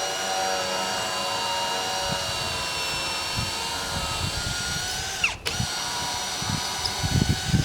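Power drill steadily pre-drilling a dry ironbark timber post, a close, continuous high whine with a brief dip and restart partway through, with no voices.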